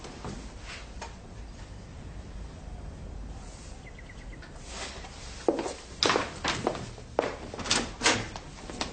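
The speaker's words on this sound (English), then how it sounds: "Close the door on your way out." A door closes as someone walks out of a room in a police drama, with quiet footsteps leading to a few firm thunks and a latch click near the end, fairly close in an otherwise quiet interior.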